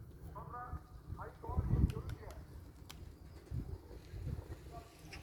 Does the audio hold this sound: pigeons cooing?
yes